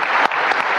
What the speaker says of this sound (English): Let's have a great round of applause for this wonderful panel.